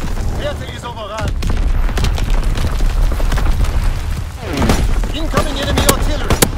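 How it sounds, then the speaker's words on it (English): Artillery shells booming one after another in Call of Duty WW2 hardcore domination, loud heavy blasts with scattered gunfire mixed in and in-game voices calling out over the barrage. "Incoming enemy artillery, get to cover."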